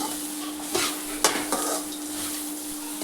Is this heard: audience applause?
no